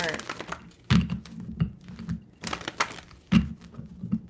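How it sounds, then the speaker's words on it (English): A large oracle card deck is shuffled close up in soft riffling bursts and dull thunks, several distinct shuffles spaced across a few seconds over a quiet room. "You said you like the shuffling. It's like ASMR."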